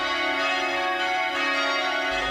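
Church bells in Europe ring out as a sustained wash of overlapping metallic tones that holds evenly for a couple of seconds, fairly quiet and steady.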